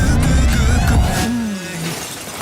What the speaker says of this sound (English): more car crashes.